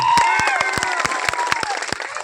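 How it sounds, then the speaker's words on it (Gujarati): A crowd at a public rally in Kantu village, Panchmahal district, claps in scattered, uneven beats, with voices sounding over and between the claps. "ત્યારે સૌ માટે એકવાર જોરદાર તાળીઓ પાડી"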